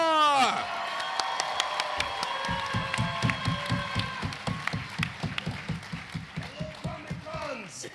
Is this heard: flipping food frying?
no